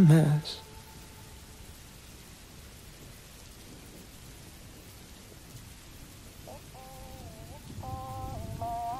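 Steady rain hissing as a continuous wash under a looping song, with a rumble of thunder at the start and sung notes drifting in near the end.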